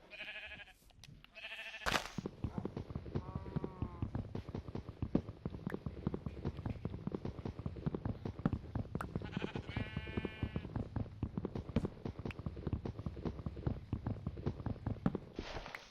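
Sheep in a video game bleat in several short wavering calls, scattered across a busy stretch of rapid clicking steps and game noise, with no talking.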